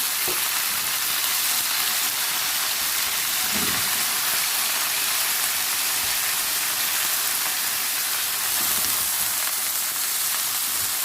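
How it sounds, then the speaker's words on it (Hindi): Minced meat sizzles and fries in a pan with browned onions, a steady loud hiss throughout with a few faint stirring scrapes. "अब इसमें हम कीमा डाल देते हैं ताकि कीमा भी इनके साथ ही भून जाए।"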